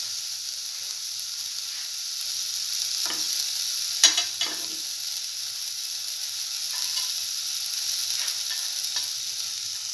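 Scrambled egg is stir-fried in a pan, with a soft, continuous sizzle and a few light spatula scrapes and taps near the middle.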